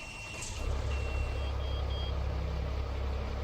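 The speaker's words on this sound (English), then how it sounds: "Don't mind the beeping. That's just the air. That's just the air brakes not being full" A truck's low air pressure warning beeps in American Truck Simulator, a steady run of short evenly spaced electronic tones over the low idle rumble of a Cummins-engined truck.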